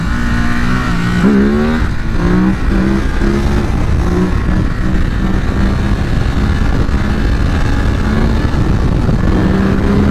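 A Ducati Supersport 950 motorcycle accelerates hard into a wheelie. The engine note climbs in quick rising revs against heavy, constant wind roar close to the rider.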